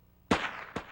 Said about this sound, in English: What you're hearing is the direct sound of the rifle combined with the reflection of that sound off the hillside 250 feet away.